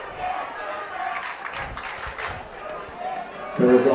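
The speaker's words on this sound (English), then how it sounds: "Frontenac crowd letting him hear about it" Home crowd at a Frontenac high school football game jeering, a diffuse murmur of many voices rising and falling at a distance, with an announcer talking over it.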